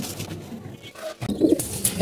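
Pigeons give soft, low coos close by in a short burst, over quiet background noise.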